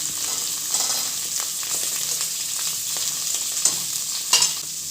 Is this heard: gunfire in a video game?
no